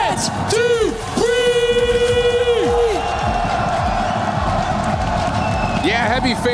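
An esports arena crowd cheers for GentleMates with loud, sustained whoops and yells, several voices rising in long shouts over a steady roar of noise.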